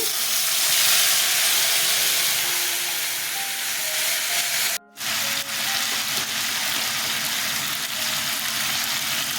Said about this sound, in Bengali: আদা কাঁচা লঙ্কা ঢেলে দিচ্ছি